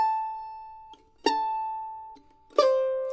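Mandolin notes sounded alone, each bright plucked attack followed by a one-finger pull-off to a lower ringing pitch, two clear repetitions close and quiet.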